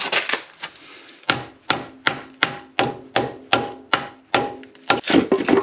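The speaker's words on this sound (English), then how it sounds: "we're going to force the axle out from this side using a mallet" Sharp mallet blows strike a front CV axle on a Subaru about once every half second, a steady run of close, ringing thumps after a few lighter taps.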